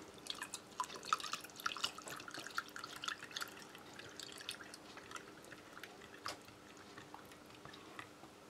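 Water trickles and drips into a British Army ration pouch of powdered meal, a faint, close patter of small splashes continuing steadily.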